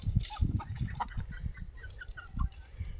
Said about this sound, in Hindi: ये देसी मुर्गी बोलते हैं इनको, प्योर देसी मुर्गी हैं